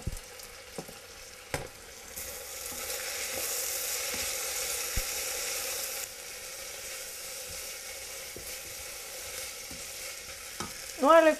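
Chopped onions and garlic frying in a soup pot, a steady broad sizzle running throughout, louder in the middle stretch, with a few sharp utensil clinks and a brief clatter near the end.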